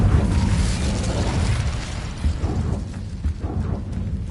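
Casting the Incendio fire spell in Hogwarts Legacy: a loud roaring, crackling burst of flame that rumbles heavily at first, then breaks into sputtering pops and crackles as it fades, with no talking.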